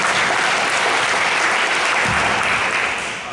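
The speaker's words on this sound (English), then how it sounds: "let's give these ladies a round of applause" Audience at a school board meeting applauding, a dense, loud wash of clapping that runs steadily through the whole stretch and only begins to thin slightly at the very end.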